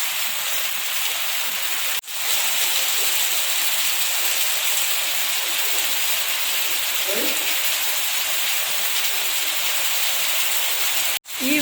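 Rain falls in Goa outside a homestay, a dense steady hiss that runs unbroken from start to finish and is heard alone, with a couple of brief dropouts and a faint tonal chirp in the middle.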